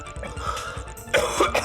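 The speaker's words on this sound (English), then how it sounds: "Enough of my belligerent coughing." Several harsh coughs burst out close to the mic in a quick cluster over steady background music, with no talk around them.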